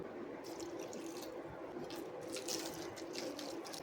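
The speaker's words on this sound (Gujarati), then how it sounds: "હવે આપણે થોડું થોડું પાણી ઉમેરતા જઈએ અને થોડું થીક ખીરું બનાવી લઈશું" Water is added little by little to a spiced semolina handvo batter: a faint, steady trickle and drip of liquid, fairly close, with no voices.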